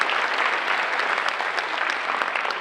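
A keynote audience at a fall festival gives a steady round of applause for a presenter, dense continuous clapping filling the room at an even level with no talk over it.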